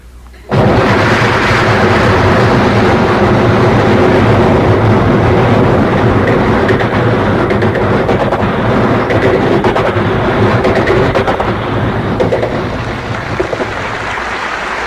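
A performer vocally imitates a long train zooming along, a continuous loud, dense rumbling roar with rattling texture that holds steady for most of the stretch and eases slightly toward the end, no talk over it.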